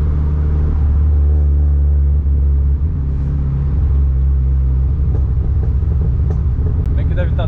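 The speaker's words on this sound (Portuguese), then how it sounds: "Você podia dar uma acelerada no túnel" A Corsa GSI 1.6 16V's deep, steady engine rumble holds loud and close in a tunnel, with a low drone that shifts as the car builds speed.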